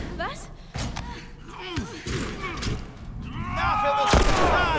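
A gunshot fires in The Last of Us Remastered, a sharp loud crack near the end that rings out amid other game thuds and ambience, with someone talking over the action.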